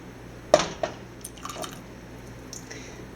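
A small splash of apple cider vinegar, about a teaspoon, drips into a homemade caramel hair treatment mixture, a quick soft liquid plop followed by faint wet sounds.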